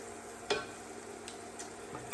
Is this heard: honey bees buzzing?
no